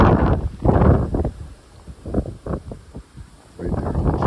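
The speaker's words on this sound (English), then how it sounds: "So it's a windy day, clear, not too cold" Wind gusting on a clear, cold day on the Chesapeake Bay shore at Kilmarnock, Virginia, buffeting the microphone in rough low bursts that swell and fade, loud and close, with no talking.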